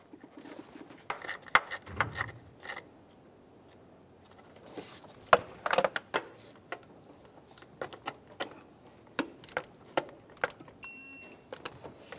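A 10mm headed bolt is snugged and then torqued to 80 inch-pounds on an ignition coil of a 2004-2015 Nissan Titan. Scattered sharp metallic clicks and taps come close by, with no speech.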